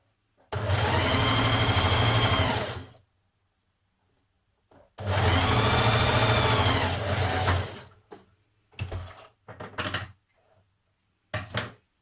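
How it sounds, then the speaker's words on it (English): A sewing machine runs two long, steady stitching passes and then several short bursts while joining the shoulder seams of a Burda 6055 smock dress, back-tacked at a 1.5 centimetre seam allowance, loud and close with quiet pauses between. "back tack to begin and join your shoulder seams"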